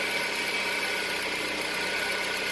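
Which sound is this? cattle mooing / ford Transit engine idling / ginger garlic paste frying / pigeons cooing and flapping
ford Transit engine idling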